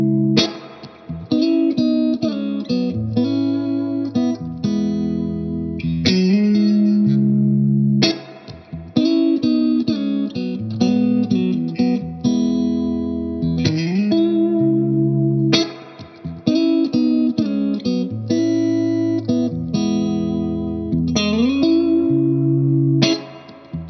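Riff played on a Stratocaster in the in-between pickup position, with a clean tone and heavy amp reverb: bright plucked notes and chords in repeating phrases, loud and up close with no talking.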